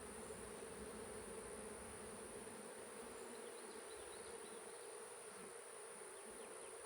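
A dense, steady drone of many honeybees buzzing together at a hive, continuous and enveloping, with no voices.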